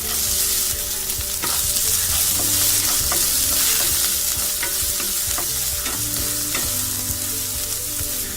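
Onion, curry leaves and coriander sizzle loudly in a hot pan, a dense continuous fry broken by a few spoon stirs and scrapes.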